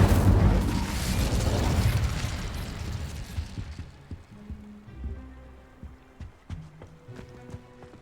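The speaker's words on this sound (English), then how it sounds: "Incendio." Incendio fire spell cast in Hogwarts Legacy, a loud, broad burst of roaring flame that fades over about four seconds into scattered crackles, pops and faint tonal game sounds.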